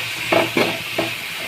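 Food fries in a pan under a steady hiss, broken by three short scraping strokes of a stirring spoon; no voices.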